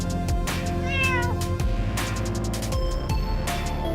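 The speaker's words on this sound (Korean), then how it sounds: "고양이가 안에 들어왔어요." A cat meows a few times inside a convenience store over a steady background hum of music or store noise, the calls rising and falling clearly above it.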